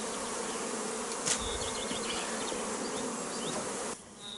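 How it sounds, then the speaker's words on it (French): Honey bees buzzing densely around three beehives on a sunny May day in Clermont-Ferrand, a steady close swarm drone with a few louder passing bees, no talk. "je vais en profiter pour regarder les hausses des trois ruches, voir un peu si les abeilles ont bien travaillé"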